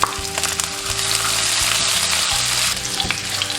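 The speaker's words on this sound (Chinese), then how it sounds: "锅中倒少许食用油，下入葱白、" Scallion whites and minced ginger hit hot oil in a wok, giving a loud, steady sizzle with scraping stir strokes of the spatula repeating throughout, close and without speech.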